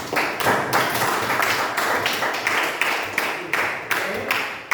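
A small group in a cable-wiring class claps steadily for several seconds, a dense run of overlapping hand claps with sharp, evenly spaced bursts at close range and no talk.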